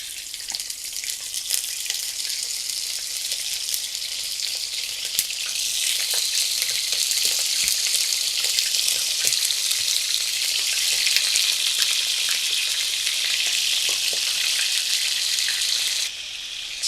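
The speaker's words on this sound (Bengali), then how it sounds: "এখানে কিছুটা তেল গরম দিয়ে দিয়েছি আর আমি এইভাবে ছেঁকে নিয়েছি যাতে পানি না রিলিজ হয় সেই জন্য। আর এখানে আমি এটা হালকা ভেজে নিব।" Boneless chicken breast pieces, drained of water, fry lightly in hot oil with a steady, bright sizzle that swells slightly midway and holds throughout, with no talking.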